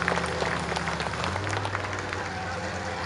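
Spectators at a Swedish Monsterrace motor race clap in a sustained, crowded burst of applause, heard from a distance and mixed with broad track noise and a low engine drone.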